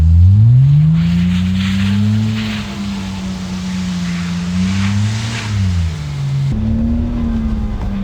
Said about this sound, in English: this is the first time I'm driving rear-wheel drive in the snow